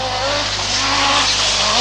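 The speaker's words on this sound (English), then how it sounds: "in a superb four-wheel drift as he comes around that right-hander" Turbocharged and supercharged Lancia S4 rally car sliding in a four-wheel drift through a right-hand bend, engine roaring loud and close with tyres scrubbing, continuous and with no talk.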